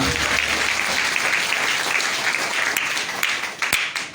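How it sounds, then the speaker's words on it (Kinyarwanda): A church congregation applauding, dense sustained clapping from many hands filling the room for several seconds before tapering slightly near the end. "amashyi menshi ku Mana."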